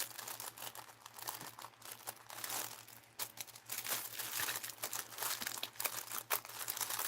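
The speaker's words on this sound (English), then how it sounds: "These bags are a challenge sometimes. It feels like it opens in here, but I can't find it." A plastic bag being opened gives close, busy crinkling and crackling in uneven bursts over a low steady hum, with no one talking.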